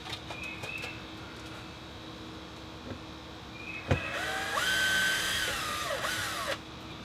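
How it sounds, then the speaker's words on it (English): A power drill driving long screws into RV fiberglass, a high motor whine rising for a couple of seconds near the end after a sharp knock, with quieter handling noise before. "I'm getting a power drill for this."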